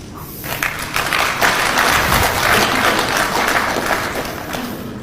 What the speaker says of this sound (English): They clap it.